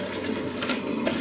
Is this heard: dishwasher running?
yes